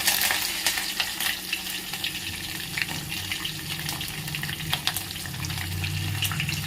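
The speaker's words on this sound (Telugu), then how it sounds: "ఉల్లిపాయలు, ఇప్పుడు ఫైనల్గా కరివేపాకు వేసుకోండి." Curry leaves and onions crackling in hot tempering oil, a loud close sizzle with sharp pops and scraping stirs, no one speaking.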